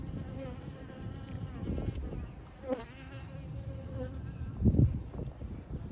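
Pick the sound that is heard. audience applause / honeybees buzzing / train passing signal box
honeybees buzzing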